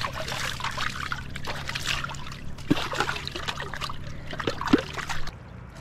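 River water trickling and gurgling steadily over stones in San Nicolas, Pangasinan, fairly close, with a few louder splashes and drips near the end.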